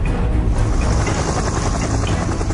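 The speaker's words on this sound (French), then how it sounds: "Par un beau matin ensoleillé, l'hélicoptère les dépose sur l'île." A helicopter setting scientists down on an island on a sunny morning, its loud, close rotor beat and engine roar filling the clip continuously without a break.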